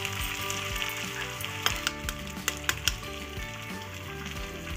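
Three eggs frying in a pan for simple egg fried rice give a faint, steady sizzle under background music, punctuated by a few sharp clicks and taps.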